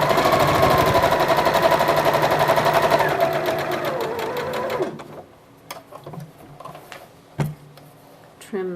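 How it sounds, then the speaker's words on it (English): Close, loud sewing machine stitching a quarter-inch seam on a quilt block for a 4-H project, a fast steady run for several seconds before stopping, followed by quiet clicks and thread-trimming sounds. "Drop the needle down when you've got a 1/4 inch seam"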